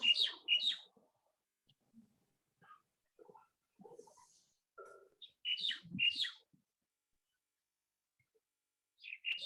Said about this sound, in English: Sounds like there's a bird chirping somewhere.